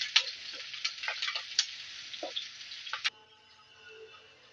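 Green chilies fry in hot oil in a pan, a close, bright sizzle with small crackles and ticks that runs for about three seconds and then cuts off abruptly, leaving a faint hiss.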